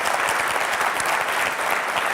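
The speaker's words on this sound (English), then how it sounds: "Can we have a big round of applause?" A seminar audience claps in a steady, full round of applause, many hands close together with no break, holding an even loudness throughout.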